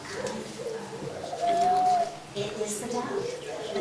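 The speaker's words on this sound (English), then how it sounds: "The dove is cooing to call out to see if" A dove cooing once in a room, a soft sustained coo in the middle of the clip, with people talking around it.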